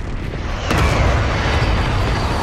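A strike bomb detonating in Warzone Plunder, a sudden loud boom followed by a sustained rumbling roar that fills the rest of the moment.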